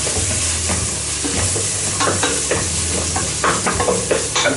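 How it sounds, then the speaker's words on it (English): Chunks of beef for a wintery stew being stirred in a hot pan, with a steady loud sizzle and repeated scraping and clattering strokes of the utensil throughout. "Let me just stir this."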